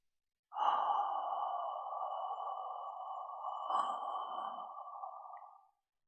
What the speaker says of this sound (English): First, I breathe out slowly.